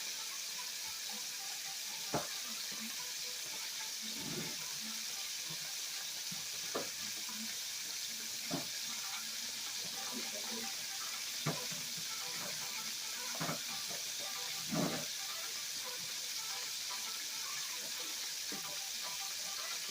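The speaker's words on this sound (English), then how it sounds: "So you let it fry about 5 minutes on each side." Thin buttermilk-coated chicken breast shallow-frying in a pan, a steady bright sizzle and crackle that runs throughout, with occasional light knocks and scrapes of a utensil.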